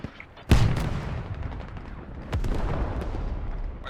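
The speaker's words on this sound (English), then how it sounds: "Enemy artillery coming in on outskirts." Artillery shells landing in Squad: one sharp, heavy impact boom early on, then a second fainter blast about two seconds later, over rumbling battlefield noise with no talk.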